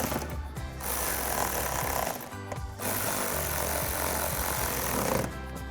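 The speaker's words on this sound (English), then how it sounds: "And then we'll take our 7mm socket and tighten these down." A 7mm socket wrench tightening headlight bolts on a 2013-2014 Mustang makes a loud, rough mechanical buzz that runs in long bursts with short pauses between them. No one speaks.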